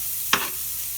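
Garlic and green onions sautéing in butter give a single short, bright sizzling burst near the pan, rising suddenly and fading within a moment against a quiet background.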